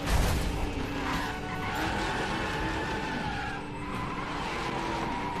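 A racing car in the PS4 game The Crew roars continuously under hard acceleration, with dense engine drone and tire skids layered into a loud, unbroken game soundscape.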